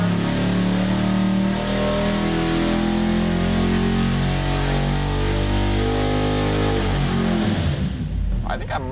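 A Ford 460 big block engine roars loudly at high revs on a dyno, holding a sustained, rising drone before the throttle drops off near the end.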